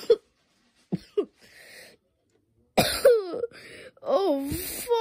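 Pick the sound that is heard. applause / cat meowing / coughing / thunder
coughing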